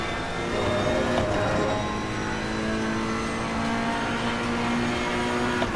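A race car engine held at full throttle in Assetto Corsa Competizione, a loud, steady high-revving drone that stays flat out for several seconds, close and continuous with no speech.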